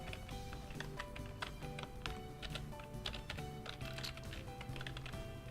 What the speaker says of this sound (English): Maybe the blind typing isn't going as well yet as I thought it would.